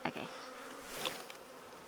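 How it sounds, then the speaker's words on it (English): Honey bees buzz in a dense, steady hum as they are shaken off hive frames, loud and close, with a brief word spoken over the swarm. "And then all the bees just fall right off."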